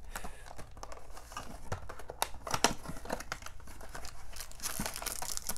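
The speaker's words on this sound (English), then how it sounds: "let's get this box cutter out and just cut it open quick, and let's crack this Donruss Elite" A box cutter slices open a 2016 Donruss Elite football trading card box and the wrapping is torn off, soft close crinkling, scraping and tapping clicks in irregular bursts, faint and continuous; no talking.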